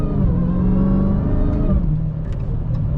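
A 707 hp Dodge Hellcat on Blizzak snow tires accelerates, its engine droning loud and close in a steady rising note, with no talk over it.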